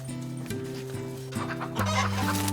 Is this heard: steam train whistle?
no